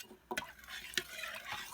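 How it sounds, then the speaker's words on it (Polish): A spoon stirring homemade yogurt mixture in a pot, with a sharp clink against the side, then scraping swishes of liquid being mixed, close and fairly quiet. "wymieszam w tym garnku"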